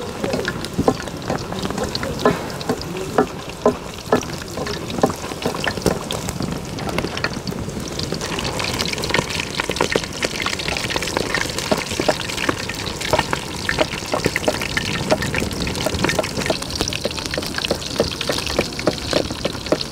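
Battered potatoes sizzle and crackle steadily in a frying pan, a loud, close, continuous hiss of hot oil with bubbling pops throughout and no talking.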